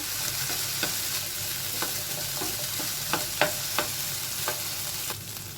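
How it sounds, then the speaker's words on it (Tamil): Potato pieces fry in a pan for a simple potato fry, with a steady close sizzle broken by scattered scrapes and clicks of a spoon stirring them, and no talking. "ஒரு 2 மினிட்ஸ் இப்படியே ஃப்ரை பண்ணிக்கோங்க"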